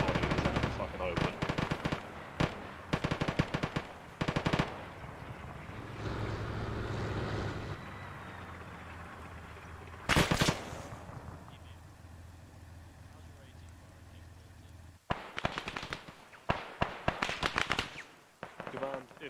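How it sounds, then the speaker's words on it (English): Bursts of heavy DShK machine gun fire crack out in the Arma battlefield, with rapid clusters of loud shots separated by quieter stretches of engine rumble, and voices talking over parts of it. "Then I got hit by a Dishka behind us"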